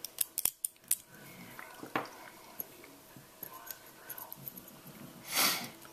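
A key inserted and turned in a sliding glass door lock, withdrawing a small brass bar: sharp metallic clicks and scrapes in a quick burst, then a few quieter ticks and a final rattling slide, close to the microphone.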